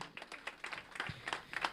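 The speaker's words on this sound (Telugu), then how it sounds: "ఒకసారి గట్టిగా చప్పట్లు కొట్టాలి" An audience claps at a stage event honouring a guest, a quiet, scattered patter of hands at a distance, fairly faint and uneven.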